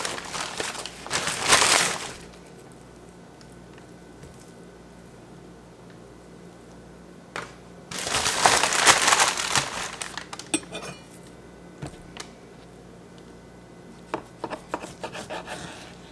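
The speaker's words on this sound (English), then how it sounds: "So now we're just going to cut this into small pieces." A knife cuts pork shoulder into small pieces on a board, producing two longer bursts of rasping, rubbing strokes, the first about 1 to 2 seconds in and the second about 8 to 10 seconds in, separated by quiet stretches.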